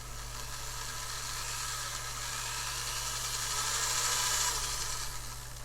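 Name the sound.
drilling a hole in PVC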